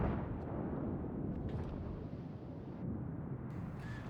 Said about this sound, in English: There's some incoming shells.